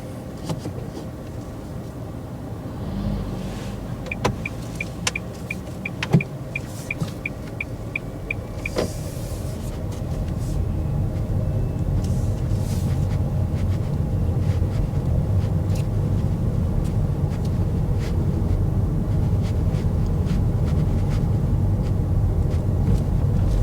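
Car driving on a UK road during a mock driving test, a steady engine and road hum throughout, with a few clicks and a brief electric whir early on, then a fuller, louder road rumble from about ten seconds.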